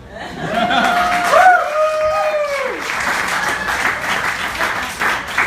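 Comedy club audience at a standup show applauds loudly and steadily for several seconds, with laughter and a few whoops or whistles rising over the clapping near the start.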